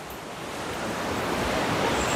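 An underground river in Jomblang cave rushes below, giving a steady broad roar that swells slightly and carries no speech.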